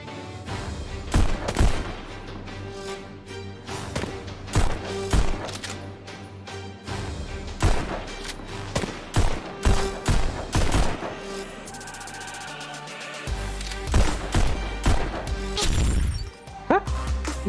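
Rapid bursts of gunfire in the VR game Pistol Whip, loud repeated shots in quick clusters over rhythmic background music.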